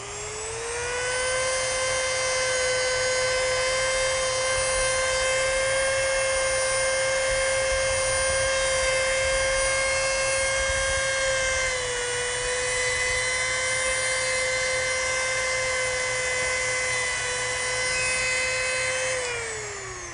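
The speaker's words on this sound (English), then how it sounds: "We'll use the Dremel tool in this case to sand along this curved surface and to round off these corners." A Dremel rotary tool sands a curved wooden surface on a model dragster body, giving a loud, steady high-pitched whine that dips briefly midway and winds down at the end.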